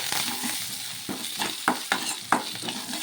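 A steady hiss of frying spices with repeated scraping strokes of a spoon stirring through the pan, close and moderately loud, no voices.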